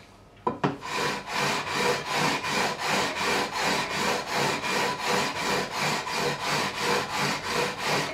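Guitar frets on an Ibanez Roadstar II RG200 neck being levelled with 240 grit sandpaper during a refret: close, even back-and-forth rasping strokes in a steady rhythm of about two per second, after a couple of sharp knocks at the start.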